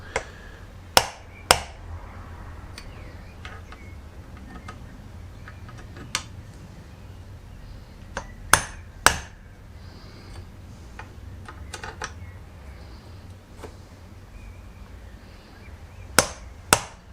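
A hammer strikes metal on a workshop tapping stand in sharp isolated blows, a few close together and others spaced out, ringing clearly over a quiet room hum.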